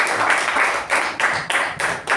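Meeting audience applauding, a dense wash of hand claps swelling in several bursts across the short stretch, fairly loud and close with no talking.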